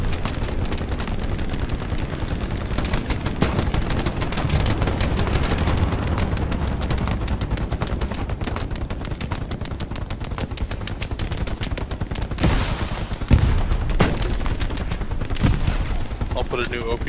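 Sustained gunfire from a World War II battle in Hell Let Loose, including an MG42 machine gun, with dense overlapping bursts and shots at mixed distances running throughout, loud and continuous, with occasional sharper reports near the end.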